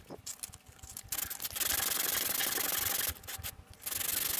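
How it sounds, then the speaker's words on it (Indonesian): Quick, scratchy back-and-forth sanding of a popsicle stick with sandpaper, up close and continuous, with brief gaps between runs of strokes. "Pelan-pelan kita amplas agar bentuknya bagus dan rapi."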